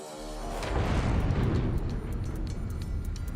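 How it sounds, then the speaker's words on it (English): A heavy explosion aboard the battleship USS West Virginia during the Pearl Harbor attack erupts into a loud, deep boom, then rolls on as a sustained rumbling roar with scattered crackles, heard alone. "Suddenly, there's an explosion."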